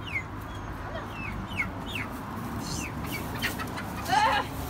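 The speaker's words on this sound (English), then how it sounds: "That chicken's going to go..." Farm chickens clucking in short, repeated calls over a steady outdoor background, a little louder toward the end.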